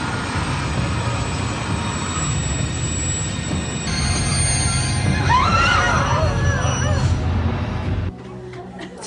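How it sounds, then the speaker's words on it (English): Train cars rumble toward a ravine in a sci-fi movie scene, a heavy, continuous rolling roar with rising whistling tones partway through, then an abrupt drop in level near the end. "The train cars with the aliens go into the ravine and everyone is saved."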